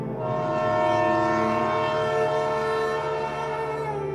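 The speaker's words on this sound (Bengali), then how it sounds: "দেখলাম একটা ট্রেন ওই লাইন ধরেই আসছে।" A train approaching along a railway line, its horn blaring steadily and loudly over a rumbling, rhythmic roll of wheels throughout, with no voices.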